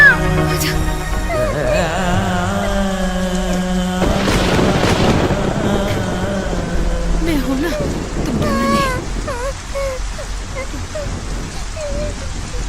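Steady rain with thunder rumbling through a storm, a constant wash under music and overlapping voices, with a swell of heavier noise midway and people talking throughout.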